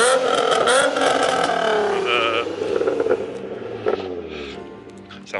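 A car engine revs up loudly with a rising exhaust note, then settles back as the sound fades over a few seconds.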